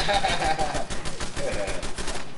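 Rapid gunfire in the Fallout 4 video game, a dense stream of sharp shots in quick bursts, loud and close, with a voice talking over parts of it.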